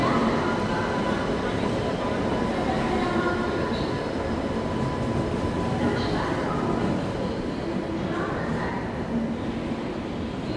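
A train pulled by a Lalaguda-shed WAP7 electric locomotive rolls into a station with a steady loud rumble and rail noise, faint wheel squeals rising now and then, continuous throughout.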